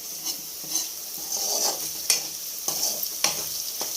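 Ginger and garlic frying in a pan for chicken fry biryani, a steady soft sizzle with occasional spoon scrapes and clinks against the pan, close and fairly quiet.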